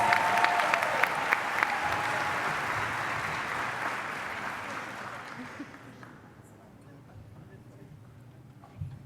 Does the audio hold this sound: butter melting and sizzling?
no